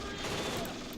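Dense, sustained burst of machine gun fire in the Close Combat Cross of Iron war video game, a loud continuous rattle filling the whole second with no talk.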